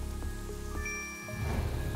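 Steady patter of rain falling from small rain clouds in the video game Star Stable Online, with faint tonal game chimes sounding over a continuous hiss.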